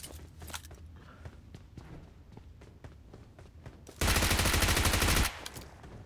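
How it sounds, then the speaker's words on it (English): Faint enemy footsteps tap irregularly in the PUBG Mobile battle royale game before a sudden, loud burst of automatic gunfire takes over for about a second, then the quieter footfalls return. "What is this footstep?"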